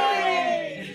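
A live audience at a UK Games Expo stage show shouting together in a single loud, brief group cheer that quickly fades.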